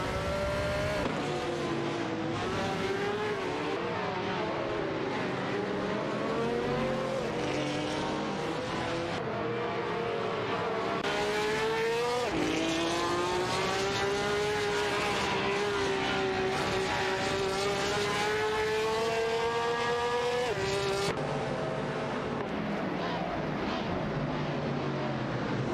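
Lola race cars in a video game race, engines whining and rising in pitch through gear changes as several cars run together, loud and continuous with no talk.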